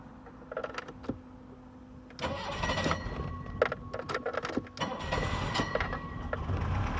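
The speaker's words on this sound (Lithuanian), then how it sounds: "Tai dabar pabandykime mes užkurt mašiną." A BMW E30 with a jumper wired in whines and creaks as the starter turns it over, then catches into a rougher running engine sound with clicks and clatter, all close by and with no talking.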